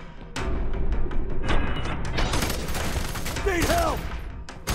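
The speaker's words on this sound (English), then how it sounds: "Give me some cover fire!" Dense rapid gunfire in F.E.A.R. 3 crackles in sustained volleys, loud and close, with a shouted voice breaking in partway through the shooting.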